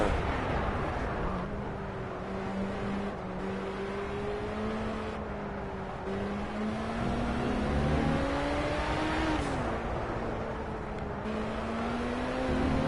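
In Project CARS, a race car engine drones through a lap, its pitch rising and falling with shifts and throttle. The tone stays steady and moderately loud, with no talk over it.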